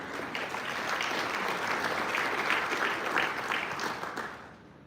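A crowd claps and cheers steadily at a student racing team's car unveiling, loud applause building then fading out toward the end.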